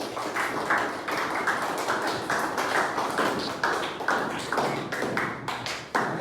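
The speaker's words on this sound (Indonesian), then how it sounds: "Tepuk tangannya." An audience claps at a school class performance, a quick run of sharp, even hand slaps at fairly close range with short gaps between groups, with no voices over it.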